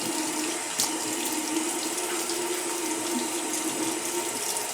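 Tap water runs steadily into a sink as alum is rinsed off after a shave, a constant close hiss of flowing water with no talking.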